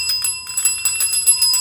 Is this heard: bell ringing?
yes